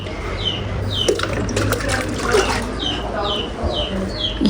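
Water pours onto potted plants on a hot day, a steady splashing and trickling stream with chirping birds in the background.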